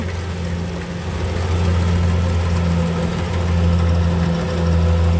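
The four-cylinder, direct-injection, water-cooled diesel engine of a Kubota DC-70G combine harvester runs steadily close by, a loud, constant low drone with a clattering knock and no pauses.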